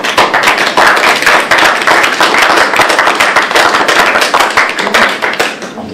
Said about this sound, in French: je vous demande de l'applaudir aussi.